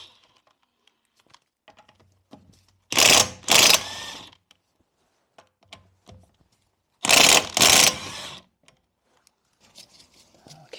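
Wheel nuts being undone on a VW van with a ratchet or impact-style tool, two short loud bursts of rapid mechanical whirring separated by quiet with faint clicks and handling noises between.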